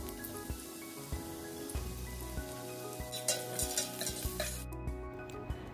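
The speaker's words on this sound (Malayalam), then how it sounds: "ഞാനിതിലോട്ട് 2 സവാള നല്ല തിന്നായിട്ട് സ്ലൈസ് ചെയ്തത് ഇതിലോട്ട് ഇട്ട് കൊടുത്തിട്ട് ആ ഒരു ഉള്ളി നമുക്ക് പൊരിച്ചെടുക്കാം." Thinly sliced onions fry in ghee for a beef dum biryani, a low bubbling sizzle with repeated clinks and scrapes of a ladle against the pot, close and fairly quiet, no voices.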